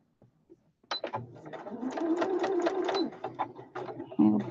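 A sewing machine stitches a quarter-inch seam on a sewing runner in quick, rhythmic bursts that begin after a brief pause and run steadily to the end, with a faint voice nearby.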